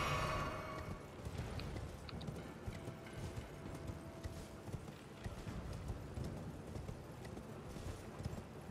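Horse hooves clip-clop steadily through a video game, a continuous close rhythm of hoof falls over a busy layer of game ambience and mechanical clatter, with no talk over it.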